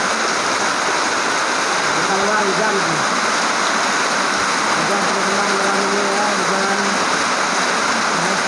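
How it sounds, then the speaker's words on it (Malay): Steady rain pours loudly at night, a dense unbroken wash of falling water with faint voices talking beneath it. "Hujan ya."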